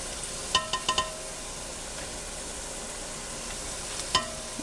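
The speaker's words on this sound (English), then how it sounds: "you want to go ahead and saute your garlic and your onions, your red onions" Garlic and red onions sauté in a pan with a soft, steady sizzle, broken by a few quick utensil clicks near the start and one more toward the end.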